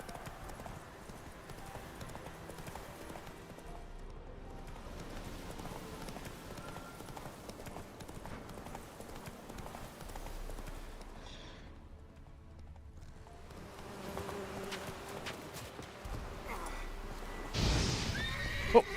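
Roach the horse gallops in The Witcher 3, hoofbeats rolling steadily under game music and a speaking voice, with a brief neigh near the end.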